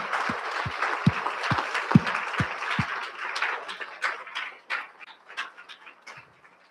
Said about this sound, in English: I want one more giant round of applause for everybody.